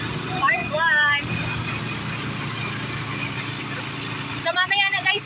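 A steady engine drone and road rumble from inside a moving motor tricycle, with people talking briefly at the start and again near the end.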